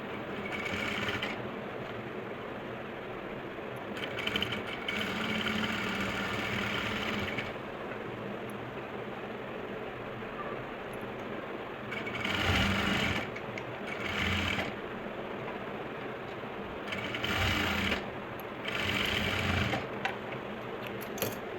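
A sewing machine stitches lace onto an Afghani salwar in several separate runs, each burst of rapid mechanical whirring rising clearly above a low background hum, with short pauses between.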